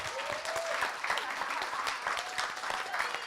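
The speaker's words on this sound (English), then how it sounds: "Can we give a round of applause for our lovely panelists?" An audience at a Women in Hip Hop panel event applauds the panelists with a dense, continuous wash of clapping, fairly close and lively, with a few thin whistles and faint cheers mixed in.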